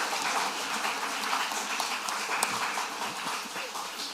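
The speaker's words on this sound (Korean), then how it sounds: "격려 박수 있습니다" A church congregation gives encouraging applause during a neighbourhood invitation gathering: a dense, soft, distant wash of many hands clapping continuously without clear individual strikes.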